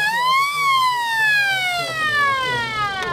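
A wailing electronic siren on a car at a concours d'elegance sweeps up and then slowly glides down in pitch, loud and close, with faint background murmur beneath it.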